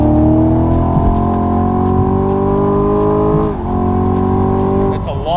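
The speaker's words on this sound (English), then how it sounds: "we'll floor it and you'll hear how quiet it is" A car with a new Valvetronic Designs exhaust pulls hard at full throttle, its engine note climbing steadily in pitch, dipping briefly at a gear change, then climbing again, loud and close and heard alone.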